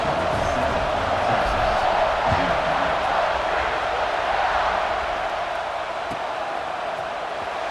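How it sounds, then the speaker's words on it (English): Stadium crowd in the EA Sports College Football 26 video game roars steadily at kickoff, a dense, continuous wash of cheering that holds at full volume for the whole stretch with no clear break. "this crowd now ready to get behind them"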